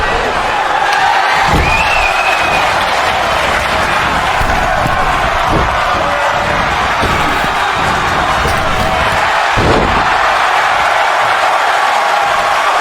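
A loud arena crowd in the wrestling game WWE 2K25 roars and cheers continuously, with thuds and slams from the ring cutting through at intervals.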